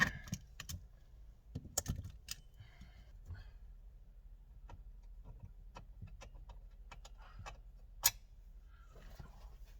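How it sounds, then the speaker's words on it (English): A metal spanner clinks faintly while bolts are being undone on an Alfa Romeo Mito, with scattered light taps and rattles in a quiet space and one sharper clink near the end. "That's my spanner again."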